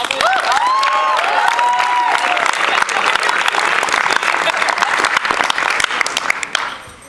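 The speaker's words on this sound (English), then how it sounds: "another round of applause to our director," Another loud wave of theater applause, this time for the show's director, Mr. Eames, with dense steady clapping and a brief voice near the start before the sound fades out at the end.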